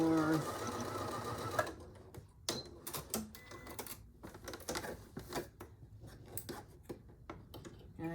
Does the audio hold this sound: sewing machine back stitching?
yes